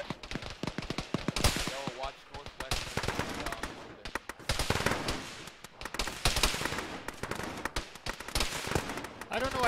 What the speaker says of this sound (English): I don't know why they're shooting at me, I'm not shooting at them.